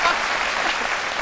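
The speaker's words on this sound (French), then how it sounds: "On va applaudir pour ce médecin." Studio audience applause for a doctor guest on a midday television show, a brief burst of steady, even clapping with no talk over it.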